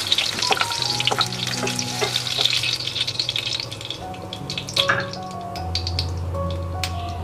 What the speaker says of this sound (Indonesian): Ini akan kita goreng sampai layu, tujuannya supaya menghilangkan bau langunya